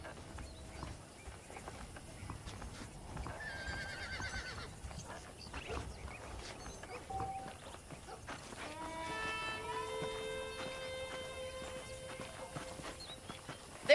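Saddled horses in the Red Dead Redemption video game walk with steady clip-clop hooves and an occasional neigh over ambient game sound, with a musical tone rising toward the end.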